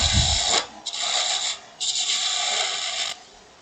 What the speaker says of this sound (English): So I need to grab this spindle gouge again. We're going to start just whittling this down.